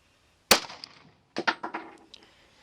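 A rifle fires a 165 grain handloaded cartridge through a chronograph outdoors: one sharp, loud crack with a ringing decay, then a quick cluster of cracking bursts a second later.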